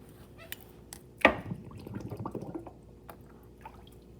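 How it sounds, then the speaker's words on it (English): Water splashes and gurgles briefly into a glass flask, a sharp splash followed by about a second of soft bubbling pour, faint and close with quiet surroundings. "So I filled the flask with water."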